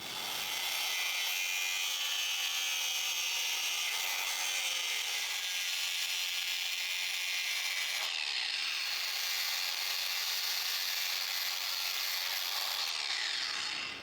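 Steel sheet being cut away from a pedal car bonnet hinge with a power tool, a steady harsh grinding-saw roar running continuously and loud throughout with no talking.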